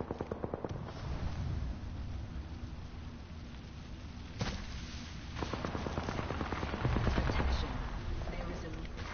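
Gunfire in Apex Legends, rapid bursts of automatic shots and sharp cracks repeating through the whole stretch, fairly loud and dense, with a few heavier blasts mixed in.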